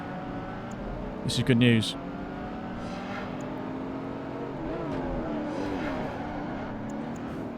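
In the Project Gotham Racing 2 video game, a Ferrari Enzo and a Koenigsegg race, their engines a steady droning whine with rising and falling revs under continuous commentary, plus a brief louder burst early on.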